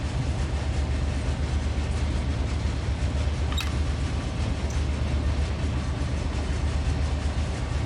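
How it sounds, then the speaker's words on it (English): A BNSF double-stack freight train in the Run 8 Train Simulator game rolls past with a steady, loud, continuous rumble of wheels and engines, holding constant throughout. "our stack train"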